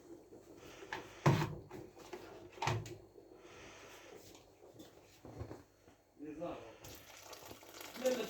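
Water is poured into a cooking pot during a Moroccan rfissa preparation, heard as splashy bursts among clatter. Someone talks quietly over it.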